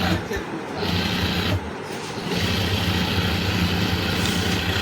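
A Juki stitching machine sews through folded rexine with a continuous mechanical whir and motor hum. A person talks over the machine throughout.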